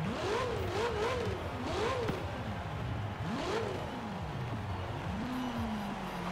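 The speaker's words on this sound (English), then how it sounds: "That is a much more fun engine." Maserati Ghibli Q4 all-wheel-drive engine in Forza Horizon 4, revving hard with repeated rising and falling pitch sweeps as the car accelerates and shifts, loud and continuous over game background noise.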